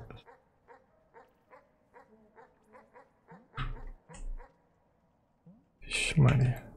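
A small dog in the game Animal Well gives a run of short, regular yips, then a few louder barks and a whimper, ending in a burst of noisy, louder barking close by.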